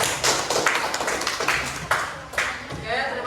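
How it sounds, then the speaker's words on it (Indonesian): A class of students claps together for a quiz result in an Indonesian classroom, a dense, uneven patter of many hands with a few sharper bursts, close and fairly loud, with a voice speaking over it near the end. "Silakan tepuk tangan untuk kita semua."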